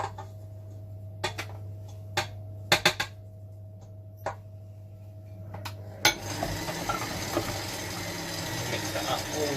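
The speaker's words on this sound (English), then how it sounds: "Mix that up all nicely." Dry ingredients, flour with ground ginger, cinnamon and bicarbonate of soda for cookies, are stirred in a bowl, starting as sparse utensil taps and clinks and then turning into a steady scraping, rustling mix.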